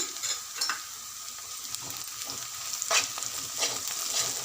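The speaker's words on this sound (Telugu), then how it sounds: "ఉల్లిగడ్డలు రెడ్గా అయ్యే వరకు ఫ్రై కానివ్వాలి" Onions and garlic fry in a pan for a brinjal curry, giving a continuous bright sizzle broken by occasional scraping stirs and spatters.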